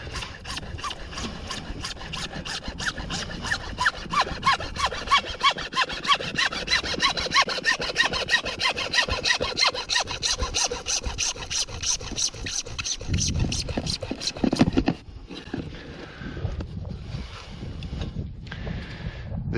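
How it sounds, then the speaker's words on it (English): A hacksaw cuts through a drainage pipe in quick, even back-and-forth strokes, close and loud for about fifteen seconds, then the cut slows into a few scattered scraping strokes. "I'm going to use a hacksaw just to show you"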